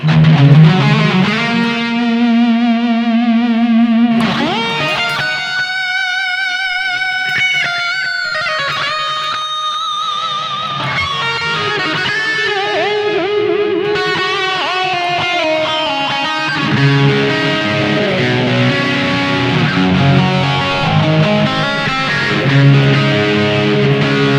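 Distorted electric guitar through a BOSS eBAND JS-10 plays sustained chords and melodic lines with heavy effects and reverb, loud and alone.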